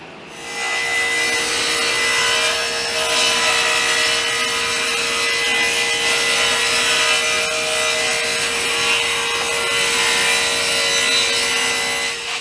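Handsaw cutting a wooden board to width for the face frame of a storage bench, a steady continuous rasping stroke sound that is loud and close, running throughout with no talking.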